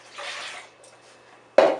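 Very cold Brita-filtered water pours into a container, a soft broadband splash lasting about half a second before fading, then a sharp, louder splash bursts in near the end.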